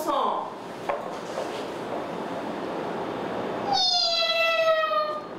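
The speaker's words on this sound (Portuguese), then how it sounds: "Gato." A cat meows near the end, a clear drawn-out cry with a falling pitch rising over a steady rushing background noise after a brief scrape at the start.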